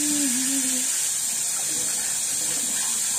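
Tap water runs steadily as a hair rinse, a continuous broadband hiss close by with no talk over it.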